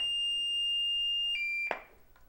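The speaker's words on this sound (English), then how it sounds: "Slide this switch and you will hear the unit powering up." A medical alert answering machine powers up with a sustained high electronic tone that shifts pitch, then ends in a short burst and a brief fading chirp, close and clear without speech.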